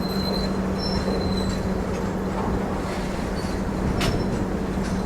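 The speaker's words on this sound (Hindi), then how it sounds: "फिलहाल ये पेट्रोलियम गुड्स ट्रेन है।" A petroleum goods train rolls steadily past with continuous loud rumble and wheel noise, a sustained close pass with faint squeals and no pauses.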